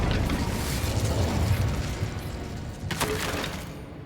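A fire spell cast in Hogwarts Legacy blasts a clutch of spider eggs, a loud rushing burst of roaring flame that sustains for several seconds and then flares again, with no talk.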